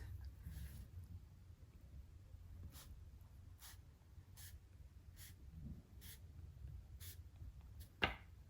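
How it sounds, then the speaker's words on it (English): A pen scratches numbers by hand into a paper planner, short separate strokes at roughly one-second intervals, close and quiet against soft room hiss, with a brief louder tap near the end. "I'm just going to go through and write the numbers"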